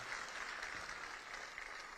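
Crowd clapping for Chief Minister Bhupendra Patel at an appointment-letter ceremony for newly recruited revenue talatis, a faint, even wash of applause that carries on steadily without a break.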